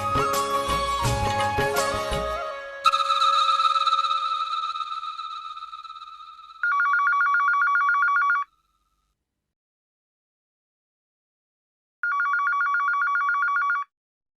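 A telephone call rings out after dialing: a tone sequence, then two electronic ring bursts about two seconds long separated by silence, clear and unaccompanied by talk.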